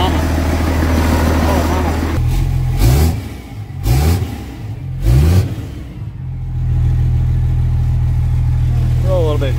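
A 2000 Dodge pickup's 24-valve Cummins diesel, rated around 600 hp, runs loud and close, idling heavily, then revs in three quick throttle blips before settling back to a steady idle, with a man exclaiming briefly.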